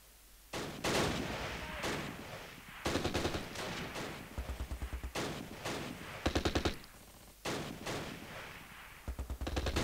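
Battle gunfire in the war video game Close Combat, with repeated bursts of rapid machine-gun fire and single sharp shots separated by brief lulls, loud and near, with no talking.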